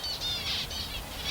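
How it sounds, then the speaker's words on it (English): Finches calling near water in the Australian ranges, a faint series of high, quick chirps repeating in short bursts over a soft background. "those finches."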